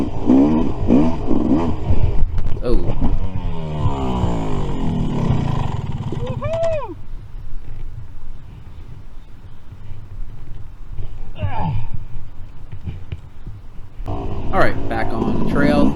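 Yamaha YZ250 two-stroke dirt bike revving on a wooded trail, with a rising and falling engine note that climbs smoothly and stays loud and close throughout, under wind and riding noise.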